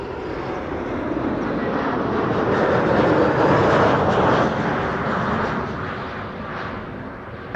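An airliner arriving on runway 06, the Kaagbaan, at Amsterdam Schiphol Airport makes a broad, roaring rumble that swells to a peak mid-way and then slowly eases off, heard from beside the runway with no talking.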